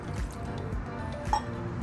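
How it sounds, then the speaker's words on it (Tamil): A small splash of water goes into ground mutton curry masala while cooking, giving a brief, close liquid trickle with a faint drip-like squish near the end. "1/4 ஸ்பூன் தண்ணி போட்டுக்கலாம்."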